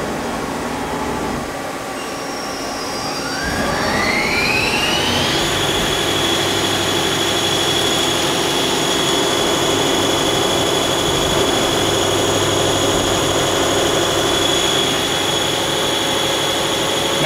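A Mazak CNC lathe runs its cycle with coolant on, a loud continuous machine whine that rises in pitch as the spindle spins up after a few seconds, then holds steady alongside a rushing wash of coolant.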